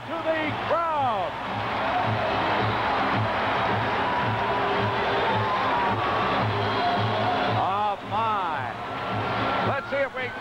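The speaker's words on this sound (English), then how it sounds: "Listen to the crowd." A 1984 wrestling arena crowd roars steadily as Hulk Hogan faces Orndorff, a dense, loud, continuous cheer that fills the whole stretch while commentators talk over it.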